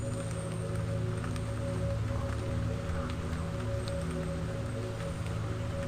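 Steady rain hissing through foliage, a broad continuous wash with a low rumbling undertone and scattered drips, no voices.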